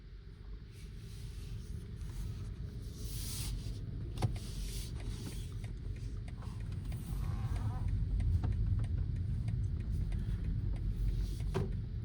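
A 2023 BMW 530e rolls slowly around a parking lot, a low steady cabin rumble with faint road noise and occasional light clicks, heard from inside.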